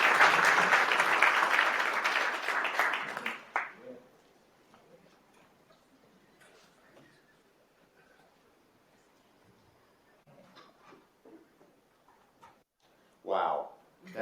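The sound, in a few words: audience applause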